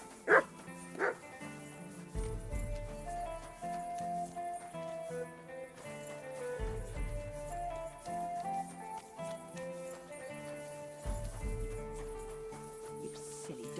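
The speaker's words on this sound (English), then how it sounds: "You silly doggy." Dog barking in the medieval role-playing video game Kingdom Come: Deliverance II, with two sharp, fairly close barks near the start. Game music plays throughout and runs on after the barks stop.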